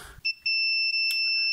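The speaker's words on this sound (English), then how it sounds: "do I in fact get a beep if I go to the far left and right?" A continuity meter beeps while testing the filament of a vacuum fluorescent display: a short chirp, then a steady, loud electronic tone held for over a second, close up with no talk.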